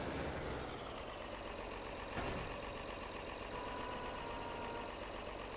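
A truck idles and rumbles steadily as it backs up in a farming simulator, a low continuous engine drone at moderate level with a brief sharper burst partway through.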